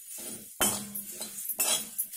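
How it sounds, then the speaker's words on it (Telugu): Puffed rice being dry-fried and stirred in a pan, with a spoon scraping and rattling the grains in a few close, distinct strokes and clinks against the metal, in an otherwise quiet kitchen without voices. "ఇదిగో ఇందాక 1 కప్ మురీలు తీసుకున్నాం కదా, అవి ఇలాగా వేయించుకోవాలి."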